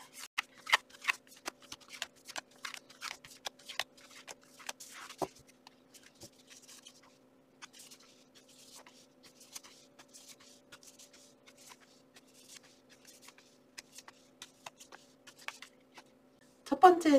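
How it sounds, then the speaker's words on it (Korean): Tarot cards are shuffled by hand for a weekly fortune reading, giving a rapid run of crisp, close papery flicks and riffles that thin out toward the end, with a quiet steady hum behind. "주간운세 카드 뽑아볼게요."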